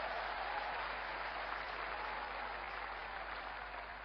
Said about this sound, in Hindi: जोरदार ताली उनके लिए दोस्तों।